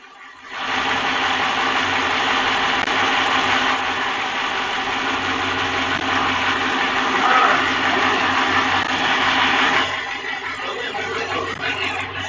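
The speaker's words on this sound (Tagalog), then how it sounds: "Naka-andar yung makina niyan," A parked 2015 Dodge car idles steadily with its engine running, a continuous broadband hum and low drone that holds for about nine seconds before easing to a quieter level, with no talk over it.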